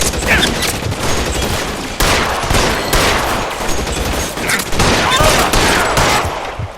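Heavy gunfire from the L.A. Noire video game: dense, sustained bursts of shots with sharp louder cracks near 2 and 4.7 seconds, a loud continuous exchange with no pauses.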